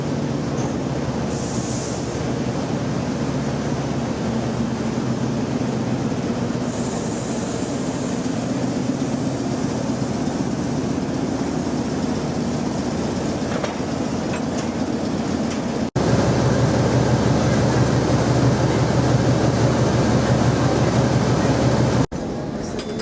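An ex-Portuguese Alstom Bo-Bo diesel locomotive of 1,050 horsepower, number 1202, pulls into Tana station in Madagascar with a steady, loud engine drone and rumble, rising in intensity near the end.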